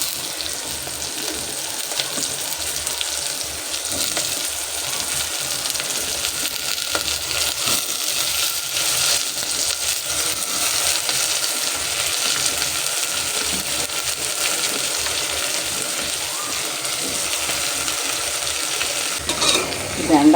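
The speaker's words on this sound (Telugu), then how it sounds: "బెండకాయలు బంక పోవాలంటే హై ఫ్లేమ్లో బంక పోయేదాకా వాడ్చుకుందాం" Okra hisses in a pan of hot oil on a high flame along with garlic, a steady, close, even sizzle with soft stirring that holds for the whole stretch, with no talking.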